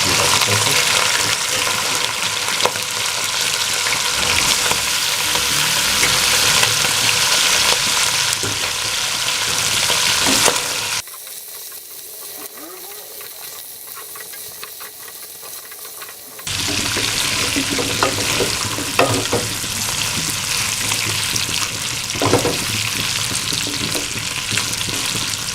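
Goat meat frying with garlic in hot oil, a loud close sizzle that drops away briefly in the middle before returning at full strength.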